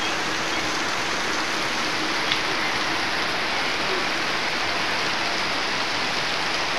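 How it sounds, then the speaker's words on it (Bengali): Rain falls steadily over a Bikrampur village home, a dense, even hiss with no gaps, heard up close and alone without any voices. "বৃষ্টি পড়তেছে।"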